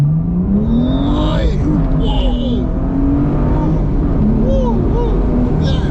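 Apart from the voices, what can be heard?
BMW M2 manual exhaust revving while accelerating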